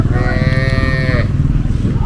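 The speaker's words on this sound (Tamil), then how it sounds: "இப்போ 2 வண்டியில் மாடுகள் வந்திருக்கு." Cattle at a rural cattle market in Tamil Nadu give a loud, close, drawn-out moo lasting over a second, over a steady bed of crowd and market noise.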